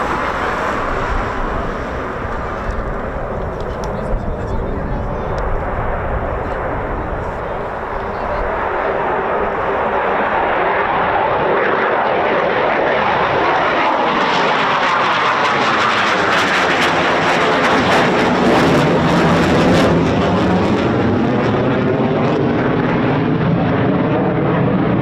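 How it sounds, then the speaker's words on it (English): An RAF Eurofighter Typhoon FGR4 jet departs from RAF Coningsby in fog, a long, powerful roar that builds and sweeps in pitch as it climbs away, with a faint voice under it early on. "6th Typhoon departure"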